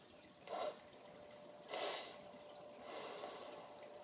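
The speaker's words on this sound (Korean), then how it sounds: "제 숨소리가 잘 들리세요?" After a snoring nasal spray is used, a nose draws in air with three soft, close nasal breaths in an otherwise quiet room, each a short airy rush.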